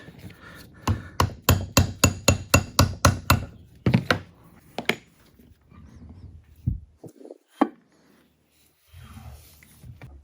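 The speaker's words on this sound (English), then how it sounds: "now I'm just going to use a little brass punch to separate this line right here" Sharp metallic taps of a small brass punch knocking apart a 3-jaw Buck Adjust-Tru lathe chuck, a quick run of about ten evenly spaced close, loud strikes, then a few scattered knocks and light handling noises.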